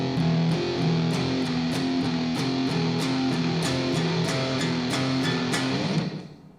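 Guitar plays the Jaws shark theme as a riff in Phrygian mode, with a slightly distorted tone and steady repeating low two-note pattern over sustained chords, then a brief fade at the end.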